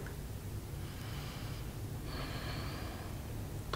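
Slow yoga breathing near the microphone, two long drawn breaths with a soft airy hiss over a low steady background hum, no talking.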